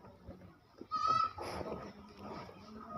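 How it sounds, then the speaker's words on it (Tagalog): Rajasthan goats kept in Nadiad, India, give a single sharp, wavering bleat close by, with quiet farmyard murmur around it. "these goats are from Rajasthan."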